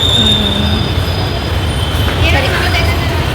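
Rumbling ride inside a metro train, with steady wheel noise and a brief metallic squeal, while people talk nearby.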